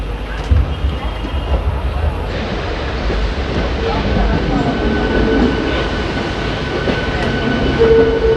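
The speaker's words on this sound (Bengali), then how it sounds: "হাওড়া থেকে কিন্তু আমাদের ট্রেন কিন্তু বেরিয়ে যাচ্ছে এক নম্বর প্ল্যাটফর্ম থেকে" Jaynagar Express pulling out of platform one at Howrah station: a continuous low rumble and rolling rattle of the train moving off, steady and close throughout, with faint voices in the background.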